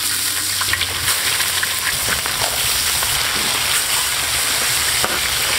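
Crucian carp frying in oil in a hot pan, lightly salted to keep it from sticking, gives a steady, close, loud sizzle with small crackles and spatters throughout, no voices over it.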